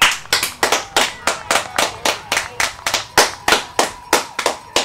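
One person clapping steadily, a string of sharp, evenly spaced claps recorded close and clear, with no voices.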